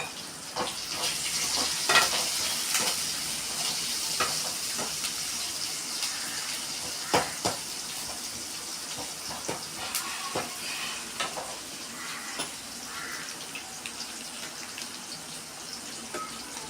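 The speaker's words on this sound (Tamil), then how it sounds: "வெங்காயம் வதங்க கொஞ்சம் டைம் எடுத்துக்கும்" Onions sautéing in a pan for vegetable Maggi noodles, a continuous moderate sizzle broken by scattered scraping stirs and clinks of the spatula.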